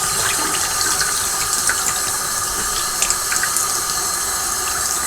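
Steady hiss of water from a hose being run through an Eheim 2213 aquarium canister filter to flush it out, a continuous rushing, splashing flow close by with no talk.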